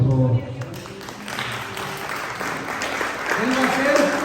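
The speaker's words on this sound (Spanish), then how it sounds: "Un aplauso para él, por favor." A church congregation applauds a volunteer called up during a sermon, a broad mid-distance clapping that swells through the middle and fades while a voice speaks at the start and end.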